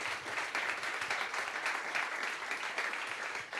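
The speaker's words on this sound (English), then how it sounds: "let's give a big round of applause for all of those people who did put their entries in" An audience at a live song contest final applauds in a dense, continuous wash of clapping that holds steady throughout, heard from a moderate distance without any talking over it.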